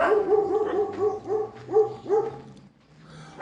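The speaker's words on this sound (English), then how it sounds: "dogs are starting to go nuts" Several neighborhood dogs bark in a quick run of sharp, repeated woofs at a middle distance, loud and uneven, fading briefly before one more bark.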